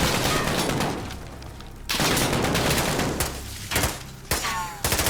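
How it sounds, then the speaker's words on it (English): Bursts of rapid gunfire and explosive shots in a loud, intense firefight in the video game Call of Duty: Modern Warfare, with brief pauses between volleys. "We're hearing this gunfight."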